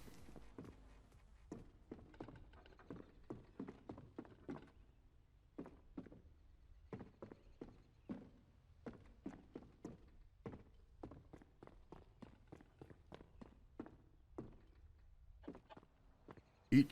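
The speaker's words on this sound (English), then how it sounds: "Especially when I get on this wood floor" Footsteps in CS:GO cross a wood floor as a long, regular series of crisp, hollow thuds, quiet and fairly close, with slight variations in pace and a louder knock at the very end.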